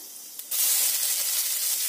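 Sliced onions drop into hot oil with nigella seeds and dried chilli, bursting into a loud, close sizzle that continues steadily after a quieter moment.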